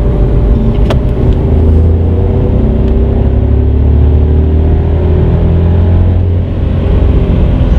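Car on a test drive, heard as a loud steady engine and road rumble from inside the cabin, with slowly shifting engine tones and a faint click near the start.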